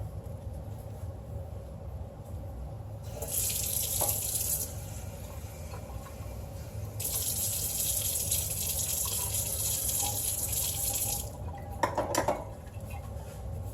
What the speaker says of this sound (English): Okay, I am going to add some more water.